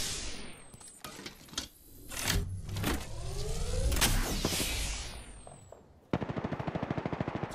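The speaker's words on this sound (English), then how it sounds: "Opening fire on the enemy." Rapid bursts of automatic gunfire in the Apex Legends battle royale game, loud and close, with mechanical reload and weapon clatter between volleys and a final fast run of evenly spaced shots.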